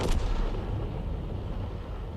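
A Bishop self-propelled artillery gun in a tank video game fires a single round: one sharp, heavy blast right at the start, followed by a deep low rumble that slowly fades away, with no speech.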